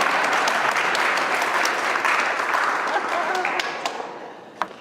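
Audience applause at an annual award celebration as a presenter comes forward, dense sustained clapping that gradually thins and fades out, ending with a few last isolated claps.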